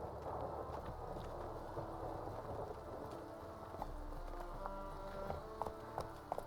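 Roach, Geralt's horse in The Witcher 3, gallops in a steady, dense run of hoofbeats, close and continuous, with a few sharper hits near the end.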